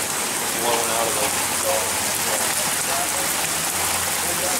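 Heavy rain and flood water rush steadily during a May 2014 flood in Tipp City, Ohio, a loud, dense, continuous wash with no breaks, heard from inside a moving vehicle.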